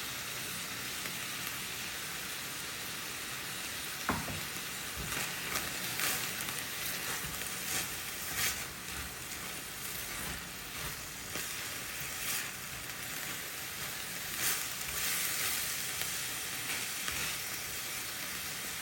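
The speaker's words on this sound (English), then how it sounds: "let the onions cook until they blend right in" Onions and ground beef sizzle and fry steadily in a pot, a soft continuous crackle with occasional stirring scrapes, fairly quiet and without talk.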